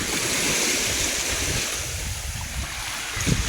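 Ocean surf at Bagasbas beach in Camarines Norte, Bicol, rolls in with a loud, steady wash of waves while wind buffets the microphone.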